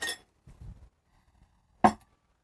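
Chopped garlic and parsley are tipped into a small bowl for an herb crust, giving a bright clink at the start, a soft scraping rustle, then another sharp clink of the bowl.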